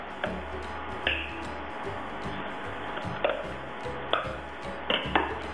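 A knife cuts a block of cream cheese into pieces on a board for a tuna and cream cheese dip: a handful of soft, irregular taps and thuds over a low steady background hum.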